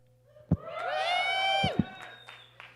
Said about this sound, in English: Keep it going. The only applause she'll get all night.